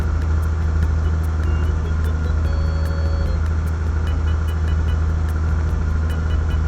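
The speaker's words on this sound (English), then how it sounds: "is that the sound of the regular car engine?" A regular car engine in the video game Simple Planes, a loud constant low droning hum with faint regular ticking on top, steady throughout with no voices.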